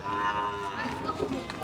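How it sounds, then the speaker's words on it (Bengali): Cattle at a village cattle market (haat) low in repeated moos close by, over a busy crowd murmur with voices talking in the background. "সব দাঁতের গরু, সব দাঁতের গরু।"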